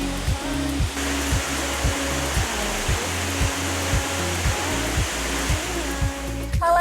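The Simonang-Monang waterfall in Asahan Regency roars as a steady, dense rush of falling water, with a regular soft low thumping running beneath it.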